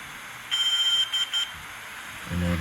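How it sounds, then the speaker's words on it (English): A DJI Air 2S drone emits a clear electronic beep as it enters pairing mode, a sustained tone followed by a few short chirps, with low background noise. "For that you do a long press until you hear a beep."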